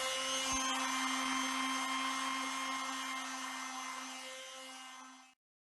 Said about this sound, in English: Using an orbital sander, sand the filler down flat to the door.